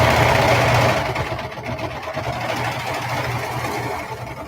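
A sewing machine stitches fabric together for a cover, a steady close motor whir with a fast rhythmic mechanical chatter running continuously, slightly louder at the start.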